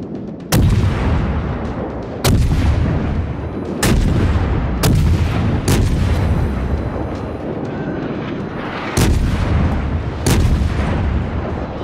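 Enemy ship guns boom in World of Warships: seven heavy, sharp artillery blasts arrive at irregular intervals, each followed by a rumbling tail, loud and close, with no speech.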